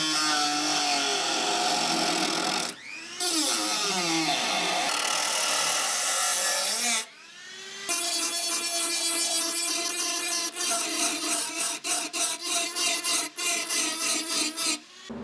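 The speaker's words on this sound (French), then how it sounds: "on a blanchi la zone à souder. Donc on a mis la tôle à nu." Bare sheet metal is sanded down for welding during body repair on a Citroën Traction, heard as close abrasive rasping in long sweeping passes that turn into quick, rhythmic back-and-forth strokes, with no talking.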